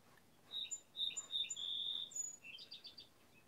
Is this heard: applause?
no